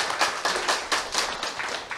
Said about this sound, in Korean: 여러분을 위해서 박수 한번 다시 쳐.